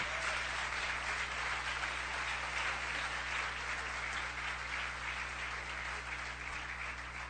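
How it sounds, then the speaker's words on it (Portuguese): A church congregation applauds in a sustained, even wash of clapping over a low, constant electrical hum, with no voices standing out. "Pode aplaudir o Senhor"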